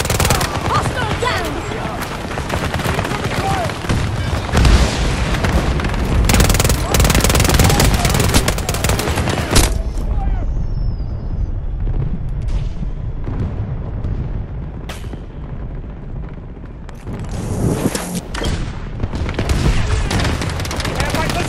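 Battlefield 2042 battle gunfire: heavy machine-gun bursts, rifle shots and explosions pour out loud and nonstop, thin out briefly midway, then surge back, with voices shouting over the din.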